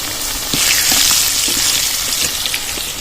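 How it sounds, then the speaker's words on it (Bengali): Potatoes dropped into hot oil already tempered with cumin, dried chili and bay leaf, giving a loud, steady crackling sizzle that swells after the first half-second and continues without talk. "আলুগুলো তেলে ছেড়ে দেবো"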